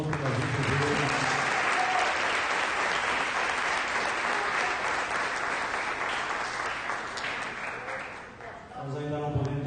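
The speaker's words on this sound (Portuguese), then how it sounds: "E um aplauso ao Senhor pela vida dele." A church congregation claps together in sustained, dense applause that fills the room for most of the stretch, then fades near the end as a voice begins speaking.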